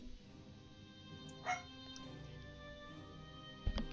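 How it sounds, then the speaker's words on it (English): Household dogs yip, whimper and bark faintly in the background behind a steady low hum of game audio, with one brief louder yelp near the end. "Apologies if you might hear my dogs barking in the background."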